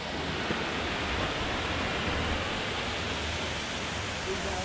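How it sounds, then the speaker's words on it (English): Steady, dense roar of rushing water from Eagle Lower Falls at Emerald Bay, Lake Tahoe, heard from nearby, constant and loud throughout, with no pauses or distinct events. "We're getting closer to the Eagle Lower Falls. We can hear the water"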